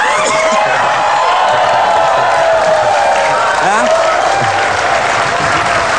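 Studio audience applause fills an Indonesian talk show set (Empat Mata), a loud, sustained wash of clapping mixed with cheers and whoops that holds steady from start to finish, with faint voices and tones underneath.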